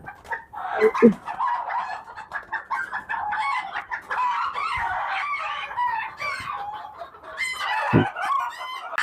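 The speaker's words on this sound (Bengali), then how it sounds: "এর ভিতরে মুরগি প্রচণ্ড ডাকাডাকি করে যার কারণে আওয়াজের একটু সমস্যা হয়" Chickens on a fancy-breed farm, including Lemon Sebright birds, cluck and call in overlapping bursts, with a loud rooster crow near the start and another toward the end, close and busy throughout.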